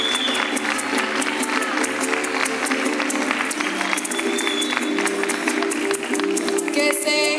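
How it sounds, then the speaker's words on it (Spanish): A crowd at a Día de la Llanidad event in the Consejo Legislativo del Estado Bolivariano de Guárico applauds Daniela, steady loud clapping over a hum of crowd noise for several seconds. "Un aplauso para Daniela."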